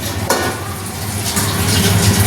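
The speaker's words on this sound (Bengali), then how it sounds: "আলমন্ড আর পোস্ত আর টমেটো বাটা দিয়ে কষিয়ে চিকেন দিয়ে ভালো করে কষাচ্ছি" Chicken sautéing in a paste of almond, poppy seed and tomato gives a loud, close, continuous sizzle and hiss, with soft stirring scrapes in the pan.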